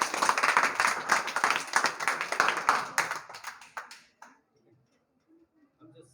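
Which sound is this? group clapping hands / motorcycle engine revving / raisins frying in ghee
group clapping hands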